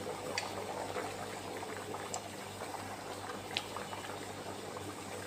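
Machboos, a spiced pilaf-style rice dish, simmers in a pot in a Dubai work kitchen. The bubbling is faint and steady, with occasional small pops, and no one talks.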